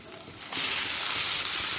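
Ground garam masala dropped into hot tempering oil, a sudden bright sizzle bursting up after a quiet half-second and holding loud and steady to the end.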